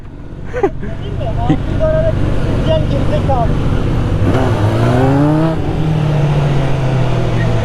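A loud motorcycle engine and exhaust revs and accelerates close by at a fuel station, its rising engine pitch sweeping up repeatedly over a steady roar while someone talks and laughs over it.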